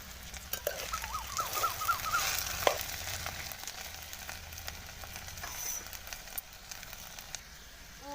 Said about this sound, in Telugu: ఆయిల్ వేడెక్కాక పోపు గింజలు కరివేపాకు వేసి తర్వాత ఇలా బెండకాయలు వేసి